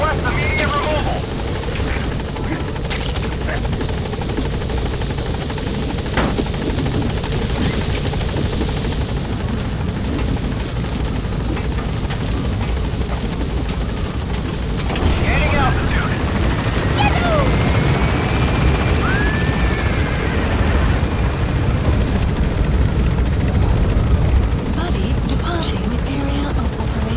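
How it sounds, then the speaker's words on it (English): Support helicopter in Metal Gear Solid 5 arriving at Mother Base, a steady loud rotor drone throughout that swells slightly louder near the end, with faint voices mixed in. "Support helicopter has arrived."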